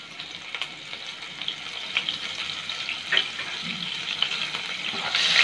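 Cumin, asafoetida and finely chopped green chillies fry in hot oil, giving a continuous crackling sizzle with scattered pops that swells louder toward the end.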